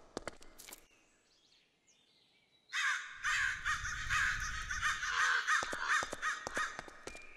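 Minecraft crows caw repeatedly at mid distance over a steady wind-like hiss, after a few sharp clicks and a quiet stretch at the start.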